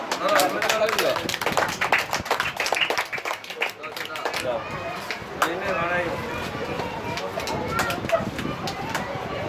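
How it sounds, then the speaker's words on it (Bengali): Children clap their hands in scattered bursts at a school supplies distribution event in Bijoypur, mixed with voices talking over the claps and bird calls nearby. "হাততালি দাও।"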